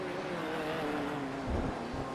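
A Chevrolet Corvette race car in a racing video game at Circuit de Spa-Francorchamps gives a steady mid-pitched engine drone, fairly faint and constant, with a brief low swell partway through.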